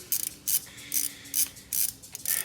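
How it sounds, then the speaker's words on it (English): A hand ratchet works a bolt on a 1994-2001 Dodge 1500 wheel bearing, giving bursts of rapid clicking in short strokes, about six in a row, close and crisp with no speech. "Switch over to the old ratchet."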